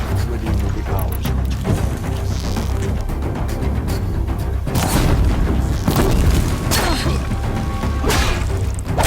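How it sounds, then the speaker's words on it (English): Explosions in the video game Horizon Zero Dawn: repeated loud booms and crashing blasts with whooshing debris over a dense, continuous game soundscape, several heavy impacts clustering in the second half. "An explosion."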